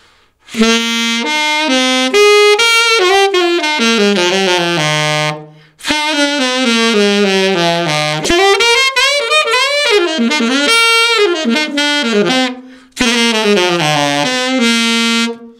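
An alto saxophone, tested with a new mouthpiece, plays a series of sustained and moving notes in three phrases, bright and reedy, close and loud with short pauses between.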